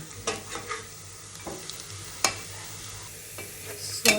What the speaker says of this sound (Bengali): রান্না ভালো হওয়ার একটা অন্যতম কন্ডিশন হচ্ছে পেঁয়াজটা ভালো করে ভাজা হতে হবে